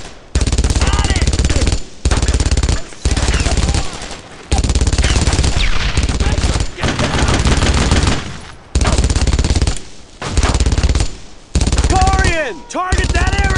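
Sustained machine gun bursts of suppressing fire in the Brothers in Arms Road to Hill 30 World War II game, loud and close, repeated in long runs broken by brief pauses, with shouted commands and other gunfire mixed in.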